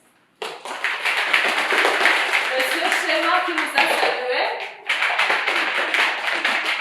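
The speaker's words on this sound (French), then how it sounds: "Je vous demanderai d'applaudir aussi pour ces proposants" Audience at a French-language school debate clapping steadily in a room, a dense run of handclaps that pauses briefly and resumes, with a voice speaking over it.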